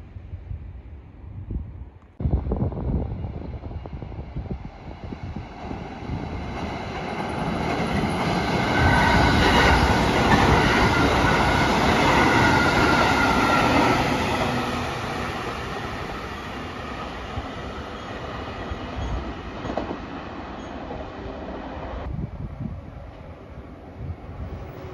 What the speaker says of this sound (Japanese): 新幹線もかなり結構な頻度で通過していきます。